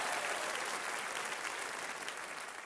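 Audience applause and cheering for country legend Walter T. Airedale at a Terry Fator show, a dense, steady wash of clapping from a large crowd that holds loud throughout and eases only slightly toward the end.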